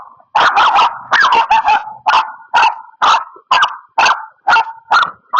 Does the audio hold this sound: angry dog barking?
yes